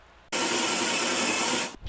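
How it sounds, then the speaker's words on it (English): A spot weld cutter drills into the rocker panel of a Mercury Sable, starting abruptly into a loud, steady high-pitched whine that holds for about a second and a half before cutting off. "now back to the spot weld cutter and some more drilling"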